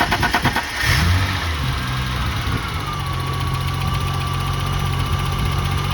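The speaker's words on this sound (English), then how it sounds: "Now we're going to crank the car and turn the compressor on" A BMW E30's engine cranks with a few quick starter pulses, then catches within a second and settles into a steady, loud idle that runs alone to the end.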